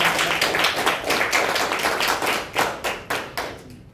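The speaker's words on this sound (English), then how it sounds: "let's give her a round of applause." A live audience gives a round of applause, dense clapping that thins out toward the end into a few separate claps, fairly close and loud, with no talking.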